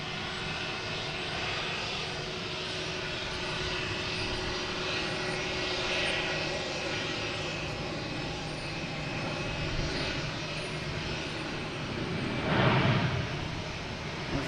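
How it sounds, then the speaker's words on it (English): Airliners approach and land at Boston Logan Airport, a steady continuous engine roar heard from a distance that swells slightly near the end. "We got that Spirit just landed coming in here."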